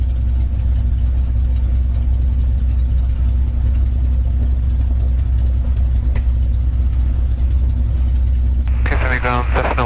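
A North American P-51 Mustang engine idles with a deep, steady rumble that stays loud throughout, and a voice cuts in briefly near the end.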